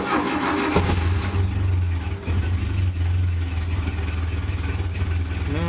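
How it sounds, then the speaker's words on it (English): A 1977 Porsche 924 running on Megasquirt fuel injection settles into a steady, close, loud idle after starting, with a continuous low engine drone and no talk over it. "So let's see if it idles."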